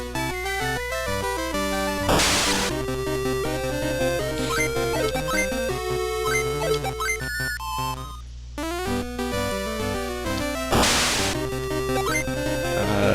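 Bright chiptune music from the WonderSwan game SaGa plays with bleepy square-wave melodies over a bouncy bassline, interrupted twice by bursts of noisy sound effects.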